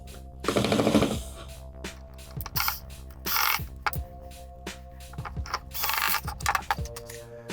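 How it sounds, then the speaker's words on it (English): Sharp ratchet-like clicks from an electric screwdriver's clutch slipping on guitar pedal screws come in several close bursts and single snaps, loud and near, with no talk. "And just do a little click like this, so you know you haven't over tightened anything."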